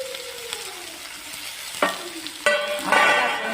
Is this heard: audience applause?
no